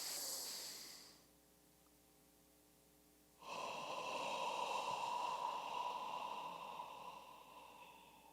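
Deep breathing in a group breathing exercise, a long breathy exhale that trails off, a quiet pause, then a strong sustained inhale, close and airy, without talk.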